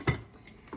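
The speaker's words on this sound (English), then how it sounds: "And I'm going to put the lid on this." A lid set onto a pot of simmering crawfish jambalaya gives one close, sharp clink, followed by a fainter metallic tap a moment later.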